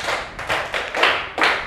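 A classroom group gives a round of applause: a few loud bursts of hand clapping in a quick, uneven rhythm, close by and with no talking.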